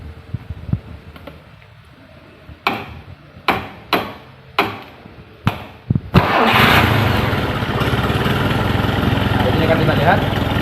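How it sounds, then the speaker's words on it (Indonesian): Toyota Kijang 12R engine cranked by the starter in several short bursts before it catches, then running at a steady, loud, rough idle. "di sini kita akan hidupkan mesin dahulu"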